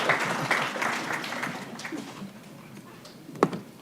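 Applause from the audience at a press club luncheon, a dense patter of many hands clapping that thins out toward the end and finishes with a single louder knock. Voices murmur faintly underneath.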